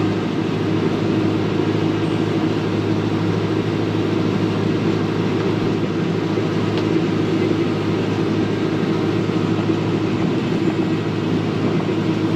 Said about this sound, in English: Tractor's running at a high idle because it's regenerating.